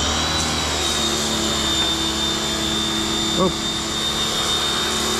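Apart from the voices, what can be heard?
air compressor running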